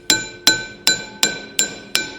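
Six sharp metallic taps with a ringing glassy tail, evenly spaced about every third of a second, struck on a wheel bearing part of a 2001-2005 Honda Civic with a bolt run in for pressure; close and clear, no talk.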